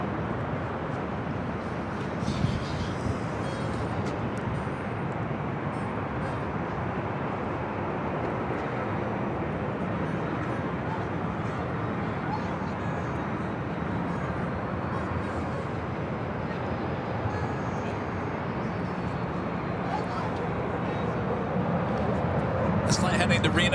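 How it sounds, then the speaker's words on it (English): A Southwest Airlines Boeing 737-700 on flight 2751 to Reno, a steady broadband jet engine roar that holds at an even level for over twenty seconds, with brief clicks and rustles near the start and end. "Heading to Reno, Southwest Airlines flight 2751 at 737-700"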